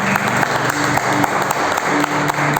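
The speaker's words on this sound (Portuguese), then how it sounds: "Você pode aplaudir o Senhor para vocês verem?" A church congregation applauds during a worship service, loud sustained clapping with distinct individual claps popping through, and faint tonal sounds underneath.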